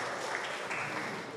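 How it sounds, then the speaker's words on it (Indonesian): A church congregation claps at an anniversary worship service, a soft, steady patter of applause heard from a distance. "Kita beri tepuk tangan untuk karyawan dan pekerja di GKJ Klaten."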